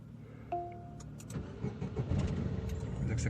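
A car's engine is started remotely through an Alexa smart car control system: a short electronic beep, then the starter cranks and the engine catches into a steady idle, heard nearby without talking.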